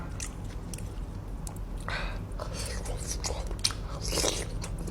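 Someone bites and chews a Thai-style spicy salmon salad close to the mic, wet crunchy chomps repeating irregularly over a low background hum.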